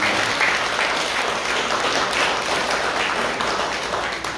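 A church congregation claps in sustained, dense applause that stays steady and fairly loud throughout, with no voices rising above it.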